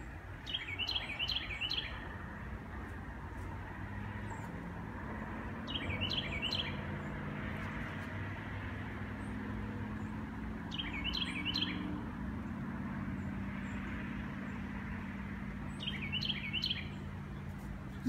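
Birds sing outdoors at dinner time in brief, repeated chirping phrases spaced several seconds apart, faint and distant over a low steady rumble like nearby traffic or machinery.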